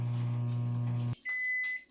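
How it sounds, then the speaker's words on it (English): A microwave oven hums steadily, then stops and gives a series of short, high electronic beeps signalling it has finished, fairly quiet and close, with no talk. "you can hear the microwave going off"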